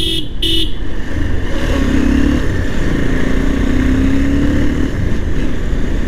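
A motorcycle rides along the Jhalokathi–Barishal highway near Satpakia bazaar, its engine jerking on suspected adulterated fuel. It makes a loud, continuous close-up drone mixed with rushing wind, and two short horn-like toots open the stretch.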